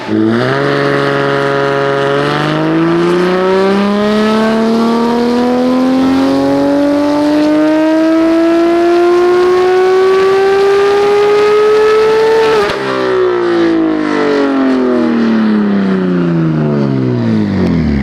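A built 900 hp BMW M4 engine revs hard under sustained throttle, its loud rising harmonic whine climbing steadily to about 9,000 rpm, then dropping sharply and winding down, with no talking.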